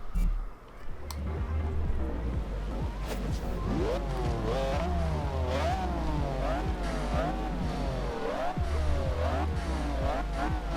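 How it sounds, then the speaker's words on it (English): A 1997 McLaren F1 GT race car engine in a video game revs and shifts repeatedly, pitch climbing and dropping in a sawtooth pattern, with a whistling turbo character, loud and continuous. "Wow, you can really hear that turbo."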